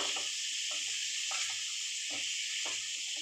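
Chicken frying over a low flame gives a steady soft hiss of sizzling oil, with faint stirring or scraping sounds breaking in at intervals, and no one talking.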